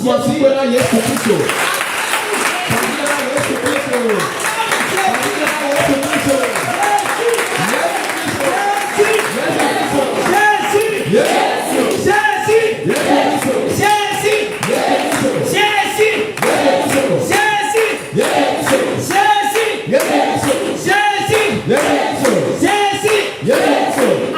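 A church congregation applauds and acclaims, dense sustained clapping with shouts and voices layered over it, loud and continuous throughout.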